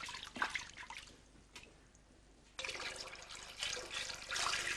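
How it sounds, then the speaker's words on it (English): Water pours and splashes as a bath is filled by hand in an old-fashioned home, coming in uneven bursts of sloshing and trickling, with a brief lull before a louder, steadier pour resumes. "it's quite a performance filling the bath"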